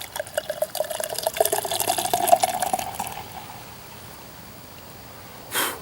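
Blackhorse vanilla cream ale pours into a glass in a close, bubbling gurgle for a few seconds, then quiet fizzing follows and a brief knock comes at the end.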